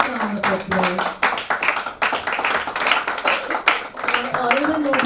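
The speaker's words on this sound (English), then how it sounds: "A big round of applause for her." A crowd claps and applauds, with dense, uneven hand claps mixed with voices.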